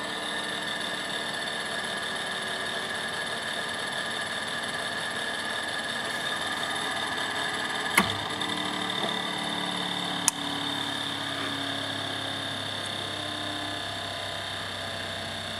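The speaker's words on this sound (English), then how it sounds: "You won't be able to open up the centrifuge until it completely stops." A Sorvall GLC-4 general lab centrifuge runs with a steady mechanical whine over a low hum. Two sharp clicks cut in, and the tone shifts slightly toward the end as it winds down. No one speaks.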